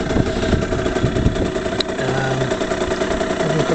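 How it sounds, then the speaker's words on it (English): A 2008 Aprilia RS50 moped's small engine idles steadily nearby, a constant throaty putter with faint mechanical rattles and no voices. "Right, let's start the engine."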